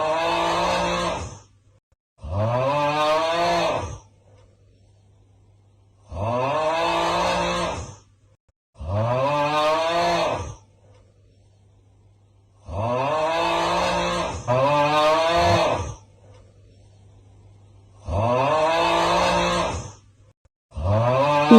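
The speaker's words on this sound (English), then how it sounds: "What's that loud snoring sound?" Loud, heavy snoring in a long steady cycle of rough rumbling breaths, each lasting about two seconds and separated by short quiet gaps, close and continuous with no talk.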